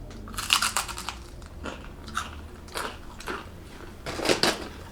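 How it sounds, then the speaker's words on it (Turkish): Crunchy IKEA snacks bitten and chewed close up, a few sharp crisp crunches spaced across several seconds with quiet pauses between, with no talk. "Ay çok harbiden ısırınca çok güzel bir ses çıkıyor"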